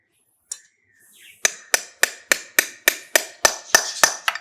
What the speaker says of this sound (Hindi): अब दोस्तों छेड़ी की मदद से हम इसके लाक पट्टियों को और ज़्यादा करीब कर देंगे।